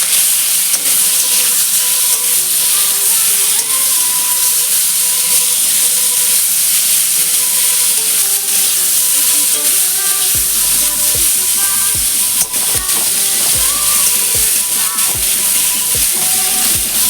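Prawns, cleaned and coated in salt and turmeric, fry in hot oil for echor chingri with a loud, steady, hissing sizzle, joined later by light clinks of a utensil stirring in the pan.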